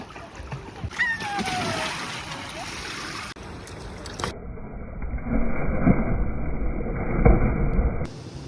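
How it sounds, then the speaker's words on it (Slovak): Children jumping and swimming in a pool or sea at a resort in Side, Turkey: continuous splashing and churning water with bursts of louder splashes, with voices mixed in and changing ambience between shots. "tu už môžete vidieť, ako sa vyšantili naše deti, skákali, plávali"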